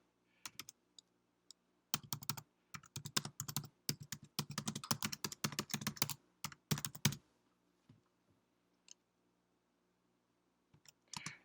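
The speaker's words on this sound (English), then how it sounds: "or we can just go ahead and type it manually" Keys clatter in quick bursts on a computer keyboard as a web address is entered by hand, a dense run of clicks with brief pauses, then a few isolated taps trailing off near the end.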